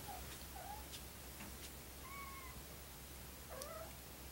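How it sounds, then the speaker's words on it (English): A cat meows indoors several times, thin tonal calls spaced out over steady low background hum, faint and fairly distant. "There's a cat meowing."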